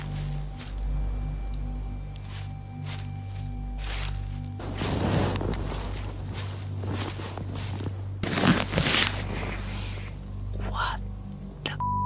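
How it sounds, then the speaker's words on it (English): Footsteps along a path at night near a haunted ruin at a camping spot, a few crunching steps that sound fairly close amid steady low background hum and rustling. "I just heard footsteps, but this time they sounded much closer, not farther in the path."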